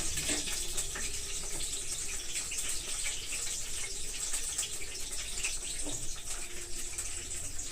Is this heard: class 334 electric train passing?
no